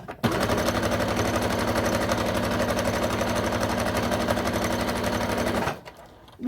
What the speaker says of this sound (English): I'm going to sew right across, put a stitch line.